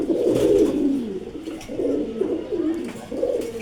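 Male pigeons coo in a loft, including breeds such as Giribaz and red checker, with several deep, throaty coos rising and falling in repeated phrases, close and clear.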